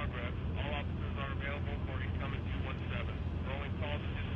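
A helicopter flies overhead in The Walking Dead video game, a steady low rotor drone that holds for the full clip under ongoing spoken dialogue.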